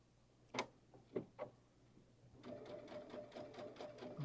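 A domestic sewing machine stitches and gathers fabric, opening with a few separate clicks before settling into a steady, fast mechanical chatter with a whirring motor hum, close and alone.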